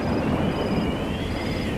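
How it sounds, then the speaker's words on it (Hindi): Wind roars outside a house in an animated horror story, a steady broad rushing whoosh with a low rumble underneath, loud and continuous for a moment. "बाहर अभी भी हवा चल रही है।"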